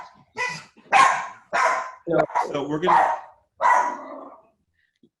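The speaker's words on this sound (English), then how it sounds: "We've got dogs barking in the background." Dogs barking in the background of a home setting just outside Washington, DC, in Maryland, a few sharp barks scattered under steady, close conversational speech.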